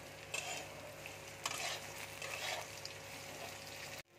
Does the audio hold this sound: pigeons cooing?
no